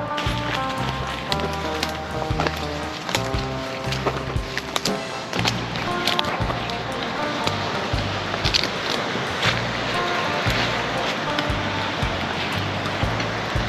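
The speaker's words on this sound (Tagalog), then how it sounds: "narinig ko na yung alon" Ocean waves wash onto a rocky shore at Bangol Crags in Agno, Pangasinan, a continuous surging roar with repeated swells, fairly loud and close, overlaid with some knocking and rustling, and no speech.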